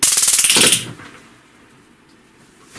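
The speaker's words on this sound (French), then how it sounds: "ils mettent le taser dans une prise avec la télé branchée dessus" A taser stuck into an electrical outlet with a TV plugged in gives a harsh, rapid electrical crackle that snaps loudly for under a second, then cuts off into quiet hiss.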